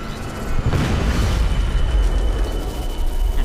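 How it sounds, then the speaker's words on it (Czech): A deep, rumbling explosion in Deus Ex: Mankind Divided, a sudden blast that fades into a sustained low roar of noise, with no voices. "Nějaký výbuch."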